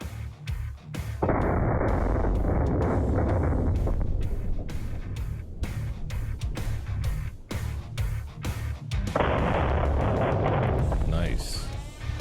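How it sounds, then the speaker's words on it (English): Someone's AK-50 rifle fitted with a new muzzle brake fires a couple of loud, heavy booming shots with long rumbling tails, heard over continuous talking. "We also did a couple of shots with the AK-50 in high speed"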